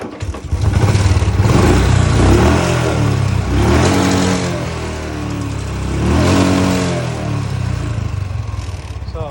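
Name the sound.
Bajaj Platina motorcycle engine starting and revving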